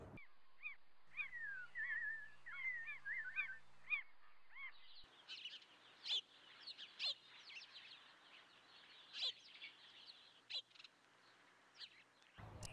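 Bem-te-vi birds call and sing inside Barra Funda station in São Paulo, with repeated sharp chirps and whistled phrases, fairly faint against quiet background hum.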